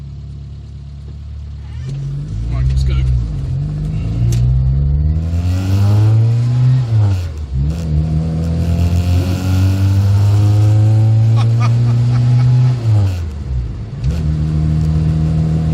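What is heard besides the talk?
modified classic Mini 1275 cc engine accelerating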